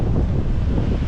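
Ocean waves and gusting wind buffet a microphone on a beach in rough weather, a loud continuous roar with no voices.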